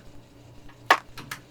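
Layered snare samples, processed with EQ to keep mostly the highs, hit together in a short pattern. One crisp, bright crack stands out, followed by a couple of softer hits over a faint low hum.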